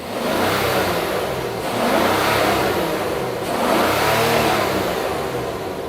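A Rolls-Royce Black Badge with an upgraded sports exhaust and 600 horsepower revs hard three times, each rise swelling to a deep, loud roar and then dropping back, close and alone.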